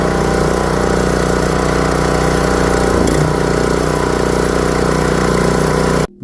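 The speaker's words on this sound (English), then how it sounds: "Now grab the handle to the pull start and give it a pull." A warm Classen TR-20K dethatcher, a turf rake with a pull-start engine, idles loud and close in a steady rumbling drone before cutting off sharply at the end.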